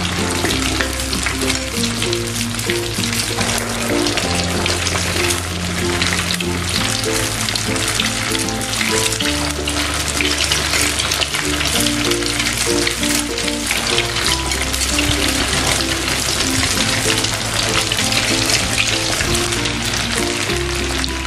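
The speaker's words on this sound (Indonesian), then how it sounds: "Tinggal digoreng deh di minyak yang sudah dipanaskan sebelumnya." Food fries in oil heated over a medium flame, a loud, constant crackling sizzle that runs unbroken throughout with low tonal music underneath.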